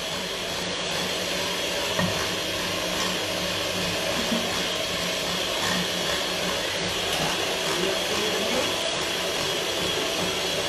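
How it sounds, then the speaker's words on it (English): Electric whisk running at a faster setting through cake batter in a home kitchen, giving a steady, continuous motorised whir that holds the same loudness throughout without pauses. "she's moving the whisk faster now than she was when it was on a slower speed"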